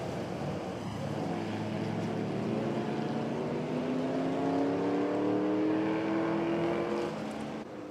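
A vintage Talbot race car at the Le Mans Classic, its engine droning loudly and rising steadily in pitch as it accelerates, a sustained, continuous roar from nearby that fades slightly at the very end.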